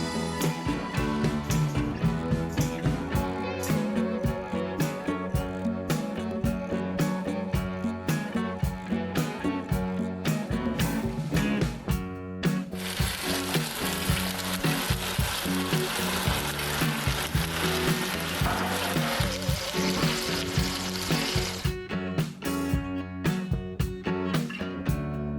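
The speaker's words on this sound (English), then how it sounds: "Roast everything in oil." Lobster and vegetables roasting in hot oil, a steady loud sizzle with frequent crackles and spits that swells into a brighter hiss partway through, close by and without speech.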